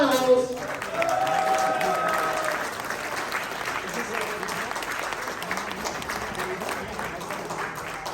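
Crowd at a Republican gubernatorial candidate forum in Laguna Hills, California applauds steadily, with a loud cheer at the start and voices mixed in as the clapping carries on.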